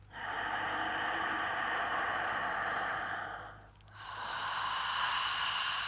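Forceful breathing exercise: a long, loud breathy exhale with a hoarse ha quality, a short pause, then another strong breath rushing out, close and alone.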